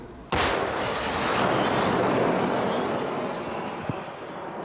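A single sharp, loud mortar blast goes off near the start, followed by a long rushing wash of noise, like wind or echo rolling away.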